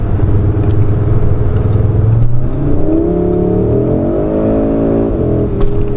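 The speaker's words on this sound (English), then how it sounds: "you can hear maybe the exhaust that is changing a bit" An Audi RS3 engine roars steadily, then its pitch climbs through rising revs as it accelerates, with a throaty exhaust note, loud and close.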